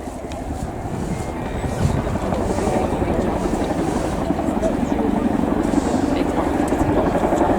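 Chinook helicopter crossing an air show display area at the Royal International Air Tattoo, a steady distant rotor thrum heard under an announcer talking and some wind buffeting.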